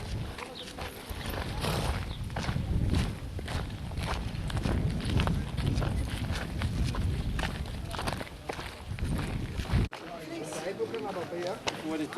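Horse hooves clopping in a steady walking rhythm on ground at a tourist site, a continuous mid-distance patter with people talking over it.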